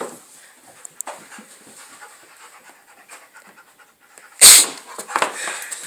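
A large puppy panting in quick, soft breaths up close, with a louder burst of breathy panting near the end and little else around it.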